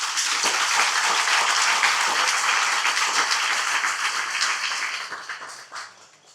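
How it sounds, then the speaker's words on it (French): Loud, close applause from a crowd at a municipal election campaign event in Morne-à-l'Eau for candidate Franck Darin, dense and continuous before thinning out and fading over the last second. "ce capitaine, c'est Franck Darin que je vous demande d'applaudir"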